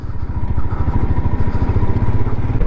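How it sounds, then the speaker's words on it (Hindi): A motorcycle engine chugs loudly and close while riding off-road on a rough track in Kashmir, a steady rapid pulsing drone with rattling clatter and no voices. "जितना ऑफ रोड होगा इस बाइक पे उतना मज़ा है।"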